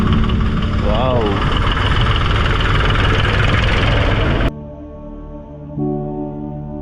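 Loud, steady rumble of a tractor pulling a tea-estate cart on a misty monsoon forest road. The rumble drops and changes suddenly partway through, and a voice talks over it.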